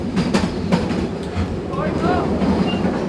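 A narrow-gauge train runs on rails through the Rhodope mountains with a steady rumble and rhythmic clicking of wheels over rail joints, a faint squeal near the end, and voices in the background.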